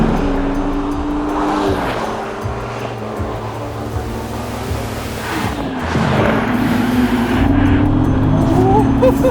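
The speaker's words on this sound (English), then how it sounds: "This is the Turbo, Singer's latest celebration/resto mod of the iconic Porsche 911" A Singer turbocharged Porsche 911 restomod, built on the 964, drives past with a loud, gritty engine note. The pitch rises as it accelerates near the end, over a rushing wash of road and wind noise.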